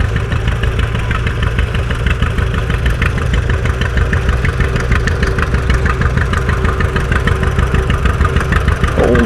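An old, restored green-and-yellow John Deere tractor at a tractor show runs close by with a steady, loud, rumbling engine chug that continues throughout, with no talking.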